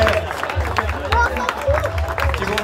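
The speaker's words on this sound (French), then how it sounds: "je vais vous demander d'applaudir encore une nouvelle fois l'équipage du Maxime Monde Rothschild" Crowd applause and cheering greeting the arriving crew of the Maxi Edmond de Rothschild trimaran, skippers Charles Caudrelier and Erwan Israël, at a race finish; a steady wash of clapping and hubbub with some voices mixed in.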